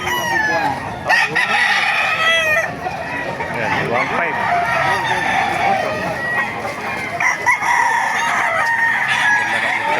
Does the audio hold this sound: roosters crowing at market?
yes